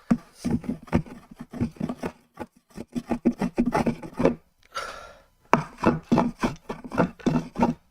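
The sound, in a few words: sharpening a garden tool blade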